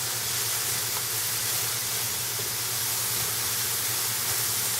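Mushrooms sauteing in oil in a pan give a steady, close sizzle and hiss with a low hum underneath, continuous throughout with no talking.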